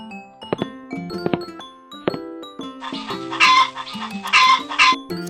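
Chickens bought from a farm cluck in short choppy bursts close by, with a louder squawking flurry of agitated calls toward the end.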